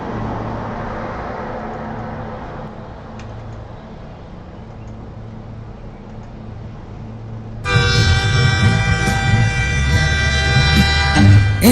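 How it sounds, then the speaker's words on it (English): A low rumble of a train on the tracks, then a loud, sustained, multi-tone horn blast starts partway through and holds to the end. "The train is on the tracks."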